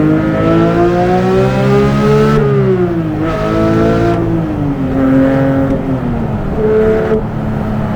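A Porsche 911 GT3 engine revs hard and high through repeated rising and falling sweeps, loud and close, shifting gears between pulls.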